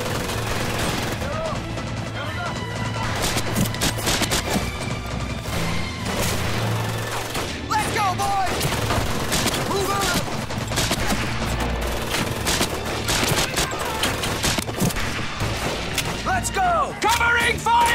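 Dense WWII video-game battle gunfire: sustained rifle and machine-gun bursts with scattered booms and crashes, loud and continuous for the whole stretch, with shouted voices mixed into the fighting.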